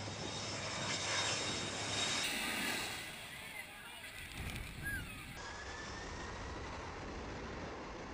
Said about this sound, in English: Maho Beach plane landing.